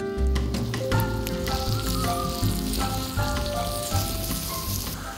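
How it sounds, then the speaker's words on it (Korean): Steady sizzling and crackling of pork grilling on a hot stone, close and continuous, with a low rhythmic thumping underneath. "지글지글 돌 위에서 익는 고기."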